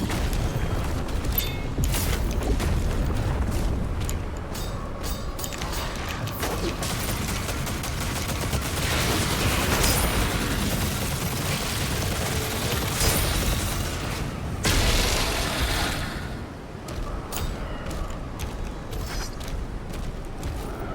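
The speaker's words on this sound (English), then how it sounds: "The standard skull launcher is pretty good." A skull launcher weapon in Doom: The Dark Ages fires with a dense, grinding, crunching mechanical roar that churns on continuously, loud and close, with brief surges and dips.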